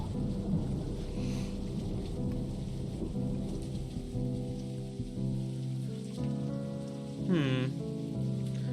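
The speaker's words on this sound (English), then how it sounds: "Ooh, thunder." Video game thunder rumbles beneath steady rain pattering on a surface, with a tonal background layer running throughout. A brief rising tone cuts in near the end.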